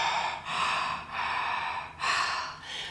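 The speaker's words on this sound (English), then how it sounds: "a very special breathing technique called Ujjayi breath. This has often been compared to the sound Darth Vader makes" Ujjayi yoga breathing, heard as three slow, close, hissing breaths with a throaty, ocean-like rasp and short pauses between them.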